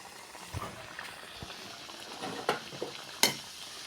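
Momo dumplings frying in hot oil with a soft, continuous sizzle punctuated by a few sharp pops and crackles, quiet and close.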